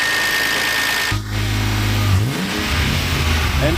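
BMW engine being rebuilt for drifting, revving up sharply from a steady idle, dropping back, then climbing again in a rising, loud, close-up growl with no talk.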